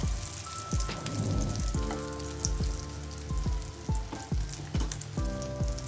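Shami kababs frying in oil in a pan, a constant crackling sizzle broken by repeated soft taps and clinks of a utensil against the pan, close up and without speech.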